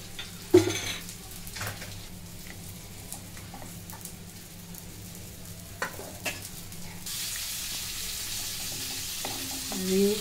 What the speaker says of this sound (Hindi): अभी हींग को हमको भूनना है, मतलब तेल में फ्राई करना है